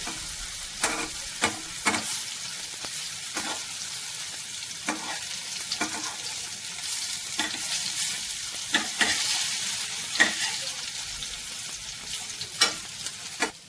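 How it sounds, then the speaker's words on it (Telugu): Bitter gourd pieces frying in oil in a pan, a constant crackling sizzle broken by regular scraping knocks of a spatula turning them, close and without any talk. "స్లోగా తిప్పుకోండి, మాడకుండా చక్కగా దూరగా వేయించుకోండి కాకరకాయని."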